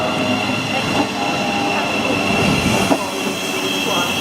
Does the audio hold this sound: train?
yes